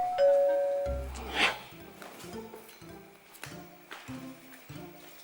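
A doorbell rings once near the start, a clear tonal chime in an Indonesian TV comedy home scene, followed by a run of short clicks and light knocks from the room.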